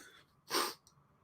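A single short, sharp sneeze bursts out close by, preceded by a faint breath and fading quickly into quiet.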